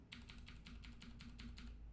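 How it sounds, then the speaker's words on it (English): Steady keystrokes on a new computer keyboard, about eight even taps at a regular rhythm, soft and close over a low hum, with no talking. "No one's gonna get angry at my loud keystrokes anymore."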